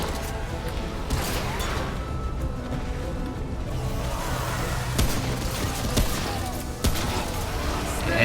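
Scattered gunshots in the video game Remnant: From the Ashes, several sharp cracks spread over a busy, noisy battle background, with voices talking at times.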